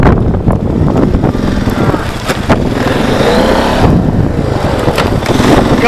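Blizzard wind roars steadily and loudly against the microphone for the whole stretch, a dense rushing blast with rough gusty texture and no clear pauses.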